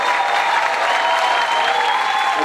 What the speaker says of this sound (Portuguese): Pode aplaudir mais forte para o Senhor.